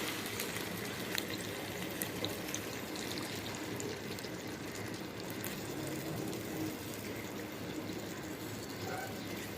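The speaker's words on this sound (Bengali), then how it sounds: "আড়াই কাপ গরম পানি দিলাম।" Two and a half cups of hot water pour into a pot of duck curry with potatoes, a continuous, even rushing splash lasting several seconds at steady volume, close by, with no talking.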